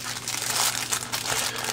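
Thin plastic packaging bag crinkles and rustles up close while a cheap lavalier microphone from AliExpress is unpacked from bubble wrap, a steady run of crackly handling noise with no talking.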